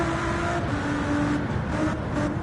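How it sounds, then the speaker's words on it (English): An American muscle car in a Gran Turismo 7 online race, its engine droning steadily with shifting pitch, tones stepping up and down through gear changes, loud and continuous with no talk over it. "Sounds great, that car, doesn't it? American muscle."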